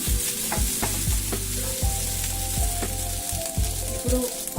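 Ginger paste frying in hot oil for an egg gravy, with a steady loud sizzle and repeated scraping stirs of a spatula against the pan, no voices.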